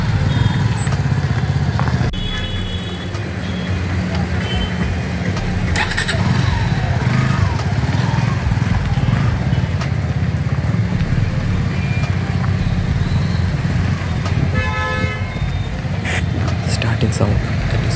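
A Suzuki V-Strom SX 250cc twin-spark motorcycle engine runs loudly nearby with a throbbing low rumble and occasional revs, while voices talk over it.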